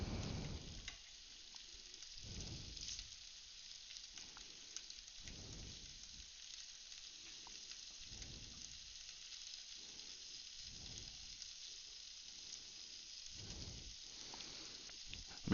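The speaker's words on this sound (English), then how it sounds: "Maybe the pan wasn't hot enough when I started frying them." Eggs and bacon frying in a pan that was not fully hot at the start, giving a steady, faint sizzle and crackle with soft spattering pops, heard alone and close with no talk.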